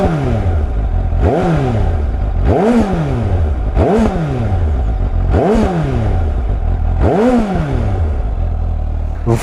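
A 2019 Suzuki GSX-S 750 in its A2 version, its engine revved in five strong, evenly spaced bursts, each rising and falling back, loud and close with no talking over it.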